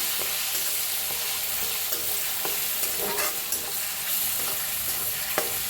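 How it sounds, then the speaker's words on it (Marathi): Steady frying sizzle of tomato and red chilli powder in tempering oil in a pan, with occasional scraping and stirring clicks, continuous and close, no talking. "छान असं भाजून घेऊया फोडणीला"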